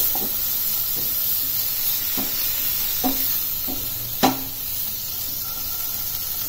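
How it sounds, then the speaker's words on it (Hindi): Mango pieces with red chili stirred and sautéed in a pan for sweet-sour launji chutney, heard as an even hiss of frying with several spaced spoon scrapes, one louder near the end, no talking. "जल्दी से हम इसमें अपने ये जो आम है उसको डाल देंगे इसको मिक्स करेंगे"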